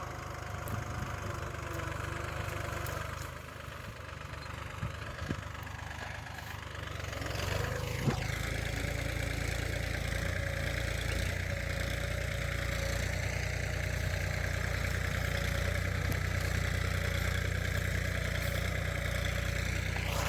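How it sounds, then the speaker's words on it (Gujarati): A farm tractor's engine runs steadily in a field, a continuous loud mechanical drone that holds an even idling rhythm throughout, growing slightly fuller partway through. "મારા પપ્પા ટ્રેક્ટર હાંકે છે."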